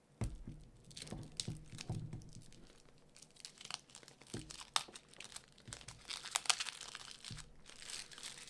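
Plastic wrap being peeled and torn off a Cat Tarot card deck, close crinkling and tearing in irregular bursts and rustles, with no talk.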